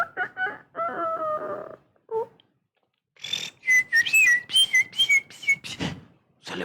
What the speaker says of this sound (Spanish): ¿por qué canta un gallo?